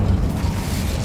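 Incendio fire spell erupting in Hogwarts Legacy, a short, loud, low roaring whoosh of flame with a dense rumbling body, about a second long.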